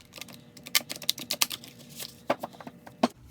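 A deck of art prompt cards is shuffled by hand nearby, giving quick clusters of crisp papery clicks and riffles in uneven bursts, with short pauses between and no talking.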